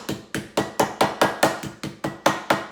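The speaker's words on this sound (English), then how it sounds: "So I'm going to hammer the meat" A meat hammer pounds chicken on a kitchen board in about twelve sharp, evenly spaced thuds, close and loud with a steady rhythm and no talk.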